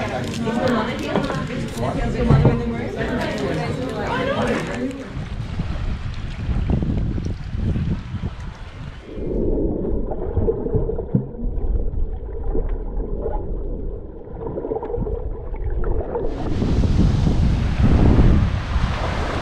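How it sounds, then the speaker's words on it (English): Strong wind buffets the microphone in loud, rough gusts on Heron Island, with people talking underneath and shifting roar throughout. "it was severely windy, as you can probably hear all the wind in the background"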